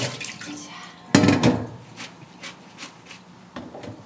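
Washed spring cabbage (bomdong) sheds water with a short burst of splashing, then scattered soft drips and trickles close by.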